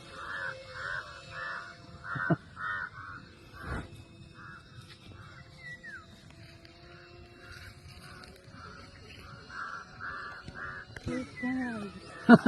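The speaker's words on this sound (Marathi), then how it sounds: "ते कावळे मागे लागले बघ त्याच्या" Crows caw over and over in a steady series, moderately distant, chasing a glider in flight, over a low background rumble.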